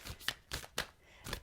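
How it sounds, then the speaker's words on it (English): Tarot cards being shuffled by hand, several quick riffling bursts spaced apart, close and fairly quiet with no talking. "Giving them a good shuffle."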